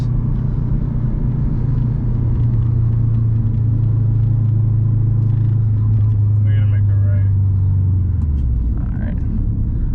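A Subaru WRX STI engine drones loudly from inside the car while driving, its low steady hum falling in pitch near the end as a gear change comes, with people talking over it.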